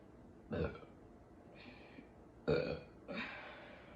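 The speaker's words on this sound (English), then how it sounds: "If I try to burp too hard, I'll end up throwing up" A woman lets out four deep, throaty burps in quick succession, two louder and two softer, close to the microphone in a quiet room.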